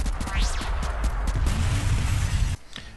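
Machine gun bursts and a crashing explosion in the vehicle combat game Convoy, with rapid close shots rising into a loud blast that cuts off abruptly near the end.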